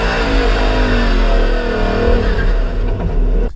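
A 5-litre Ford Mustang V8 revs loud and close, its deep engine roar sustained throughout before easing off at the very end.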